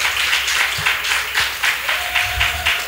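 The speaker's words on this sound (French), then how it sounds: "Sous vos ovations, s'il vous plaît." An audience at a professional event on logistics gives a guest a warm ovation, with dense, loud applause that swells and ebbs in pulses and carries on throughout. A faint steady tone enters near the end.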